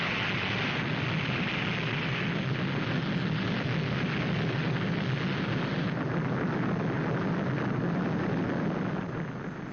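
A missile launch after a countdown makes a continuous loud roar, a dense, steady rushing blast that holds for the whole stretch without letting up.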